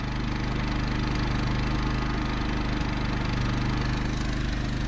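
Champion 3500 portable generator installed in an RV, running steadily with a constant low engine hum and drone, moderately loud and unbroken throughout, with no voices.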